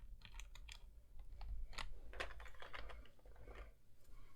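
Clicks and taps of GMK Handarbeit keycaps being pressed onto a Percent Skog Lite mechanical keyboard, a close, irregular run of sharp plastic snaps and clacks with no talking.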